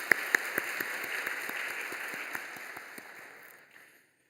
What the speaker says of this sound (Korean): 다시 한번 우리 큰 박수로 영광 돌리겠습니다